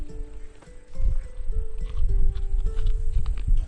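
Horse in Assassin's Creed Odyssey, close hoof clops and snorting movement over a low rumbling background, with a steady tone running underneath.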